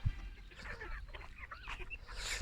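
Japanese bantam hens walk about in a backyard poultry run, giving soft, scattered clucks and murmurs at a quiet, moderate distance over faint background noise.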